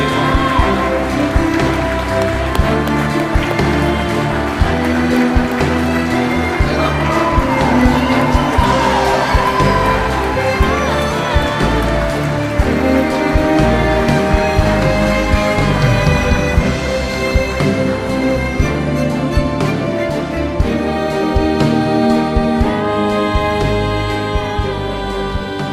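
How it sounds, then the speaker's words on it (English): A large audience at the 2024 Tasmania Australian of the Year Awards gives long, sustained applause, a dense patter of clapping that carries on under loud playing music. "It's going to be a long clap, ladies and gentlemen."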